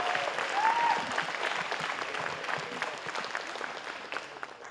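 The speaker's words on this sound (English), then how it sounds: "we need to give a shout, a scream, or applause if you agree" Applause from an audience at the 2022 Barrie Police Awards ceremony rises as a broad, steady wash of clapping in a large hall. It is moderately loud at first and tapers slightly toward the end.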